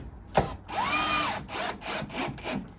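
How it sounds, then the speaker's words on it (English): A power driver with a PZ3 bit runs screws into wood up close: one long whirring run that rises and falls in pitch, then several short bursts in quick succession, with no talk. "Using a PZ3 bit, put them screws in."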